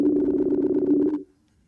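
A phone call's ringback tone to the Powells sounds as one steady, fairly loud buzzing tone for just over a second, then cuts off to near silence.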